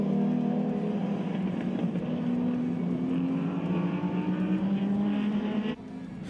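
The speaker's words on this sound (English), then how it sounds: "the Focus Freight Escort leads the Climax Racing Datsun around the track." Race cars, a Ford Escort and a Datsun, lapping a circuit, their engines droning loudly and steadily as they hold revs, then dropping off abruptly near the end.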